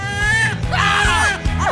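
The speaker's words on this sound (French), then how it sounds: "C'est quoi ces cris?" High, wavering screams rise and fall in several loud bursts close by, layered over a busy backing of music or other noise.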